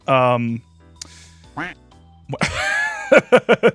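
A voice imitates a duck, a loud nasal quack up front followed later by a string of short, rapid quacking bursts, with brief pauses in between.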